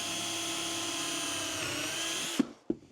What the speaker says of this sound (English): Okay, so let's put some screws in.